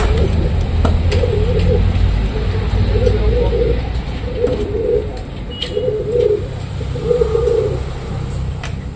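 Pigeons cooing near their cages, a steady series of low, soft, rhythmic coos repeating every second or so over a loud constant rumble of background noise.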